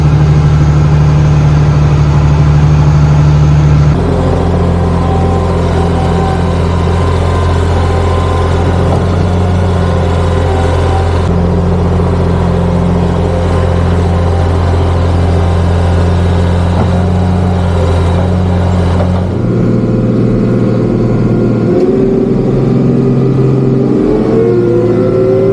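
A farm vehicle engine runs steadily while hauling manure, a loud, close drone that shifts pitch in distinct steps as it revs and changes load, with no voices over it.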